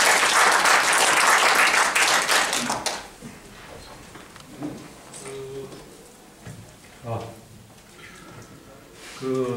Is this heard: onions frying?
no